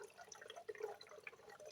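Water trickles through the bubbler tube of a homemade oxyhydrogen rig, a faint, close gurgle with small drips and bubbling.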